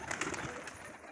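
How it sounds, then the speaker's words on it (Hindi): A flock of pet pigeons settled on a wall, their low burbling coos running continuously at close range, with no speech. "ये देखो दीवार पे बैठ गए सारे कबूतर उड़ उड़ के।"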